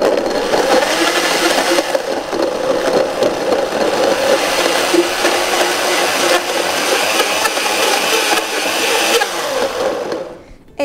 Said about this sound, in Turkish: Şimdi hemen blender yardımıyla smoothie'mi hazır hale getireceğim.